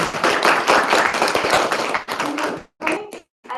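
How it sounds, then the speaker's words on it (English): Audience applause closing a talk on the Wessex Convection Experiment, with loud dense clapping from a room of people that thins out into a few scattered claps and then stops. "another big round of applause"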